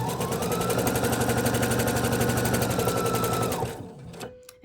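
A sewing machine stitching mermaid tail fabric, running steadily at a fast rhythmic clatter for several seconds, close and loud, then slowing to a stop.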